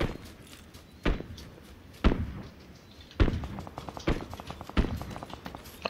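Gunshots in a multiplayer battle royale video game, several sharp distant cracks spaced about a second apart over quiet background.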